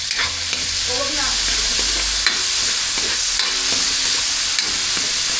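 Chopped cabbage sautés in a pan in a home kitchen, a loud, constant sizzle running throughout with scraping stir strokes and brief clatters, no talk over it.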